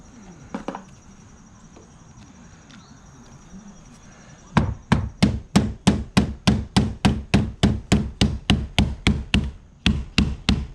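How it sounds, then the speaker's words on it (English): A hammer drives a screen into place on a wooden screen-room frame. After a few scattered taps, a long run of sharp, evenly spaced, close blows follows, about two per second, loud and without speech. "just hammer it in place all the way around"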